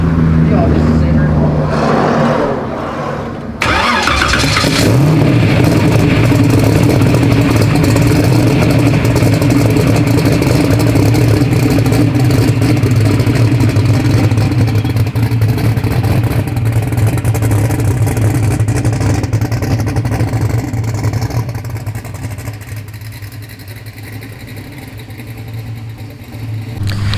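Car engine running hard on a hub dyno, a loud sustained roar that holds for about twenty seconds after a short lower-pitched start, then eases off toward the end, with people talking over it.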